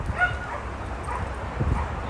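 A dog whimpers and yips a few times indoors, fairly close and moderately loud, with soft short vocal sounds over low background rumble rather than full barks.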